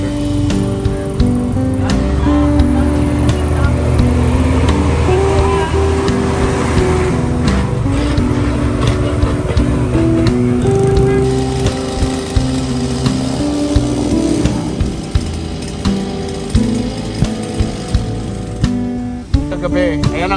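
A repaired grass cutter's small engine runs continuously up close, a loud, steady droning hum with slight unevenness and a few brief sputters near the end.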